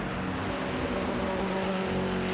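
A vintage race car roars toward turn 6 at Road Atlanta during an SVRA race, its engine a steady, loud, dense drone held at high revs with no talking.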